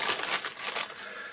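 Rustling crinkle of a plastic bag removed from a 1/35 scale model kit, close and continuous for a moment, with sharp crackly bursts and no voices.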